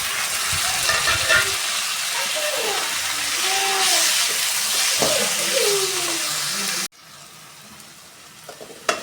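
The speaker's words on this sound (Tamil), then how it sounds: "வெங்காயம் தக்காளி நல்லா வதங்கணும்" Chopped onions, tomatoes and garlic sautéing in a pan for a Tamil onion-tomato thokku, a steady loud sizzle with spoon scraping and stirring, ending abruptly into quieter room noise and a final clatter.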